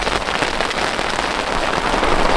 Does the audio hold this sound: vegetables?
no